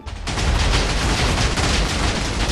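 Bombs go off in the Minecraft video game while Lucky Blocks are being opened, a dense, loud barrage of overlapping blasts that roars nearly without pause after a brief quiet start.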